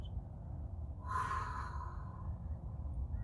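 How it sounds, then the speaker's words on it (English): A slow, deep breath released during a guided grounding breathing exercise, a soft airy exhale swelling in the middle over a low steady rumble, with no speech. "Breathing out everything and anything which no longer serves"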